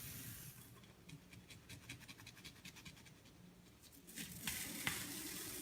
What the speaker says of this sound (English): You start the cut with the utility knife.